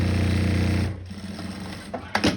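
A sewing machine hums and stitches rapidly along a thermal bag seam for about a second, then stops, followed by soft handling noises and a couple of light knocks.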